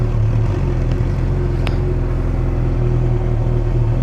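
A 2007 Yamaha R6 sport bike with a slip-on exhaust idles, already warmed up, with a steady, even low rumble and a constant engine drone heard up close with no one talking.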